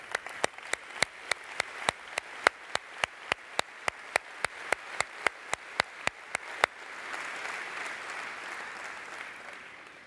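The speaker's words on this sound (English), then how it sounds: "Let's get them to stand up so we can give them a big old round of applause." Applause at a SolidWorks World 2014 conference general session: crisp, evenly spaced claps in a steady rhythm for several seconds, then dissolving into a softer, continuous wash of crowd clapping.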